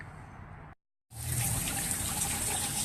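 Water gushes steadily while a car engine's cooling system is flushed during a coolant hose and radiator replacement, draining toward a drain pan; the flow cuts out briefly, then resumes louder with a bright hissing splash.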